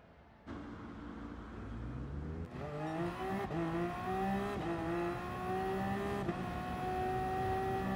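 A hybrid Gr.1 race car in GT Sport laps the Sardegna Road Track A, its engine droning and rising through upshifts with sharp gear-change breaks, heard alone and close.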